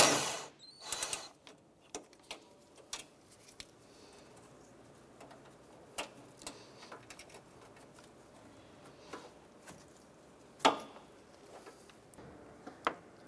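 A socket wrench taking out a 10 mm radiator bracket bolt on a 2006-2013 Chevrolet Impala, with faint scattered ratchet clicks and taps that come and go, plus a few sharper metallic knocks.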